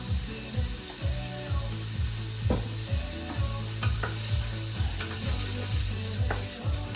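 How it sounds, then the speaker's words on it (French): Food browns in oil in a pot for a beef daube in tomato sauce, a steady sizzle and crackle with a repeated scraping, stirring rhythm throughout and no voices. "Il faut bien faire revenir."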